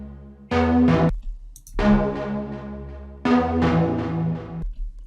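A bright synth lead plays short chord stabs in three phrases, each cutting off cleanly with no echo trailing into the gaps.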